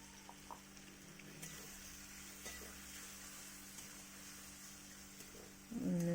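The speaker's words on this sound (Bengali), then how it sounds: "এটা নাড়াচাড়া করে নিয়ে পেস্টটা দিয়ে দেবো এবার" Whole spices with cumin seeds being stirred in a hot pan of oil for an egg curry, a steady sizzling hiss with faint scraping throughout, ending in a sudden louder clatter.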